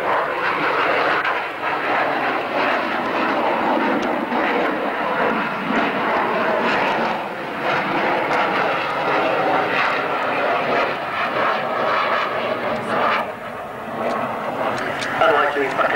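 A jet with four Rolls-Royce Bristol Olympus engines, each of 20,000 pounds thrust, runs in at a 1991 Leicester airshow: a loud, steady, broad roar lasting throughout, with a public-address commentator talking over it.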